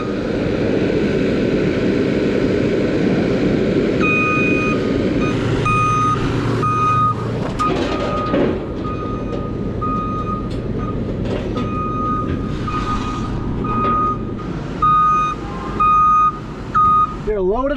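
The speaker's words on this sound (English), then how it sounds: "Skid loader's coming on first in the side-by-side." A skid loader backing onto a trailer on a farm, its reversing alarm beeping in a regular rhythm over the loud drone of engines, with a few clanks and a brief rising whine at the end.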